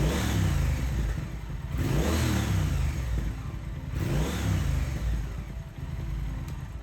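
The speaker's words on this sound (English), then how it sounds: "Give it several decent revs to around 4 or 5K" A Triumph Modern Classic motorcycle engine revs to around 4,000–5,000 rpm and falls back several times, loud and close, with a steady idle rumble between the rising whines.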